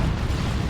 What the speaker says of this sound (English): Another nuke thrown in from one of the Plague Champions there.